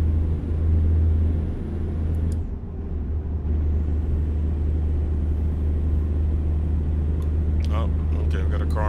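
In American Truck Simulator, a steady low truck-cab rumble fills the whole stretch while a car passes alongside, with a brief dip near the middle and a short mechanical hiss toward the end.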